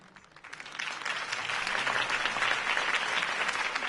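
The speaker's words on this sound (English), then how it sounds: "If only Mr. Wayne, my campaign's largest backer, could have heard that applause" Crowd applause swells and holds, a dense wash of many hands clapping at a political campaign rally in a Batman video game, steady and fairly loud.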